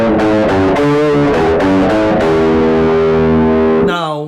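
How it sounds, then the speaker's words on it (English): Electric guitar through an octave preset and an overdrive distortion pedal, run through a single amp, plays a loud sustained riff of chugging notes that rings out and cuts off near the end. "I've just sort of put on a standard sort of distortion overdrive"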